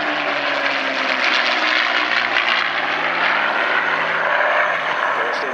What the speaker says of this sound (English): Merlin engines, when you listen to them individually, they're going to sound different.